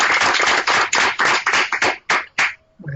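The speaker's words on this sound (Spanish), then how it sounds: "Un aplauso también." Audience clapping at a housing-finance forum for young people in Mexico, a burst of hand claps that breaks into separate fading bursts and ends in near silence.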